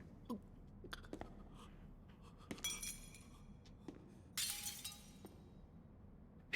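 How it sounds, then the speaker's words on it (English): Glass-like breaking and shattering crashes from an anime battle scene, several sharp bursts scattered among softer clicks and hits, with the loudest shatter near the end. "Piece shatters."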